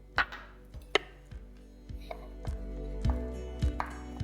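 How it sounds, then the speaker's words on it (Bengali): A knife chops almonds and pistachios on a board with about a dozen sharp, evenly spaced knocks over a low background hum, close and clear with no talking. "শুধু কয়েকটা পেস্তা নিয়ে এরপর আমি ভালো করে এটাকে চপ করে"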